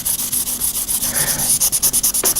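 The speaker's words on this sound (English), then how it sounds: "I don't know whether I should go a bit more aggressive with the sandpaper" Sandpaper rubs in quick, rhythmic back-and-forth strokes over the finish of a DIY guitar kit, loud and close, with no voices.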